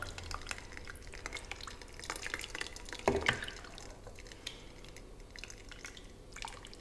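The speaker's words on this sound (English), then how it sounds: "we are just separating the liquid, which is the rendered down fat" Rendered beef fat drains through a colander into a bowl with a continuous light trickle and dripping, some clinks and stirring scrapes, and one sharper knock midway; no talk.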